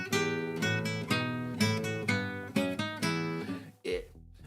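Classical guitar played ponticello, near the bridge, giving a bright, thin tone: a steady phrase of plucked notes and chords with clear attacks, ringing close and fairly loud, ending in a short pause and a final struck note.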